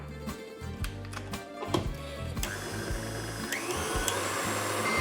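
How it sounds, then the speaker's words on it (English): An electric mixer whisks egg whites and sugar on high for Greek walnut cookies, giving a loud, steady motor whir with rhythmic clattering pulses from the beaters, close up and alone throughout. "We're going to continue whisking on high until stiff peaks form and the sugar has dissolved into the egg whites."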